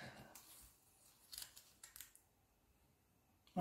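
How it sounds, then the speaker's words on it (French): Sharp scissors snipping through fabric for a shabby-style sewing machine cover, a few quick separate cuts near and close, with quiet pauses between them and no voices. "j'ai des ciseaux qui coupent très bien"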